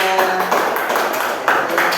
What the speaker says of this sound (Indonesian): tepuk tangan buat Jila